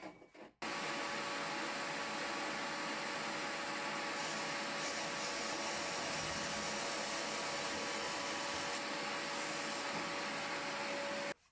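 A power drill with an 8 mm wood bit bores into a partition wall, whining in one loud, continuous, steady run that stops abruptly at the end.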